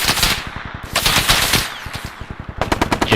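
Automatic gunfire in the video game Bellum rattles in rapid, loud bursts, almost continuous, with a brief lull before a final crisp volley.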